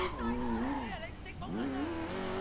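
A car engine in the video game Sleeping Dogs revs steadily, its pitch swelling, dipping around the middle and climbing again across a continuous, fairly loud drone.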